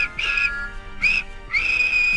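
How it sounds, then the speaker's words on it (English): Three shrill, steady blasts of a cartoon train whistle from Thomas the steam engine, each sounding about half a second or longer, loud and close, with no talking. "and Thomas in return always whistles"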